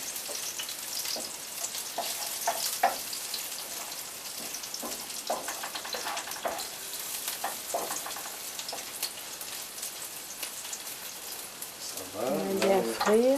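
Garlic frying in a pan gives a continuous crackling sizzle with scattered pops, fairly close and moderate in level; a brief tonal voice-like sound comes in near the end.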